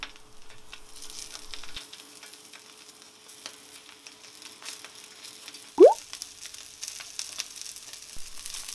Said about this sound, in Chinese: 然后把虾放进去煎。